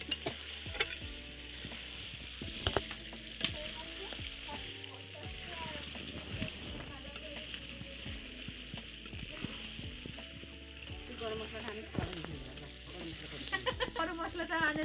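Boiled mutton is sautéed in oil for mutton kosha, sizzling steadily and close, with repeated scraping stirs and clinks against the pan throughout.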